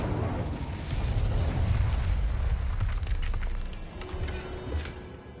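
The Incendio fire spell is cast in Hogwarts Legacy, a loud roaring burst of flame that swells and fades over several seconds, with crackling pops near the end.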